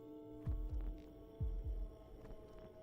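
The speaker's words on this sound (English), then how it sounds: "That heartbeat sound effect seemed to go off a little early." A game heartbeat effect from the horror title Fear & Hunger 2: Termina, two pairs of deep, low thumps over a steady droning hum, fairly quiet with no talking.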